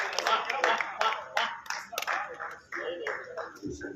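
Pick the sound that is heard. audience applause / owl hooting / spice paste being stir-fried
audience applause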